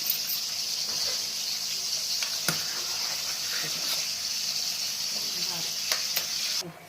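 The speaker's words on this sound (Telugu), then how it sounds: "సాంబార్ మంచిగా మసులుతుంది." A pot of sambar bubbles and hisses steadily at close range, a continuous simmering sizzle with a few faint clinks, then it cuts off near the end.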